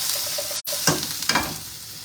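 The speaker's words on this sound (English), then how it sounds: "I'm going to give it a quick stir," Mushroom and salad vegetables for a frittata sizzling in a frying pan as they are stirred: steady close frying hiss with a couple of quick scraping stir strokes, no voices.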